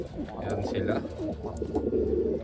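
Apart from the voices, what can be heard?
Taiwanese Wantai racing pigeons cooing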